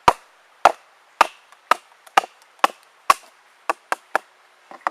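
A Navy Seals knife is driven into wood with a small mallet, splitting it in a run of about a dozen sharp, close knocks at an uneven, fairly steady pace, with no talking over them.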